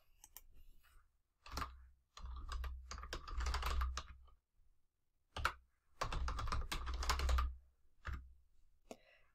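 A password is typed on a computer keyboard in close, quiet bursts of rapid key clicks separated by short pauses, with no speech.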